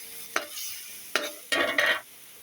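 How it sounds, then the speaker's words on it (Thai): Cabbage seasoned with MSG is stir-fried in a pan: a few short, close scraping bursts of the spatula over a light sizzle, the last two strokes longer and louder. "ใส่ชูรสลงไป แล้วก็ผัด"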